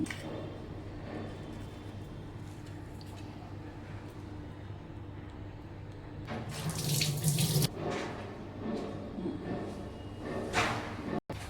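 A glass of water splashes and pours into a pot in a short burst midway, over a low background hum, with a brief clatter near the end.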